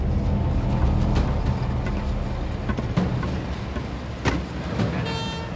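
An $18 million excavator working in Kalgoorlie's Super Pit gold mine, a heavy, continuous deep engine rumble close by with scattered clanks and knocks of rock and metal, with no talking.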